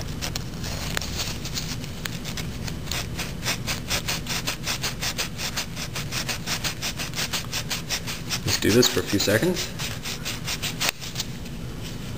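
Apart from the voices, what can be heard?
point file sanding ignition points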